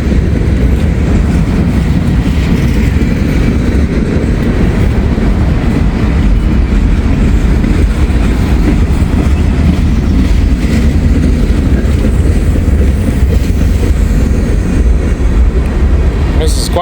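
A long freight train rolls past continuously and close by, a steady loud rumble of wheels with clickety-clack over the rail joints and faint squeals, heard alone for the whole stretch.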